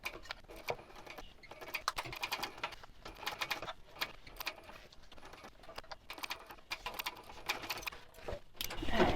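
A sewing machine stitches a seam on a handbag, with rapid mechanical bursts of needle clatter starting and stopping in short runs, close and fairly quiet.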